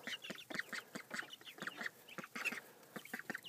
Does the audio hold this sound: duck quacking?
yes